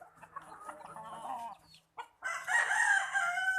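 Sonali chickens on a poultry farm cluck in a steady stream, then a rooster crows loudly after a brief pause, with more overlapping hen calls close by.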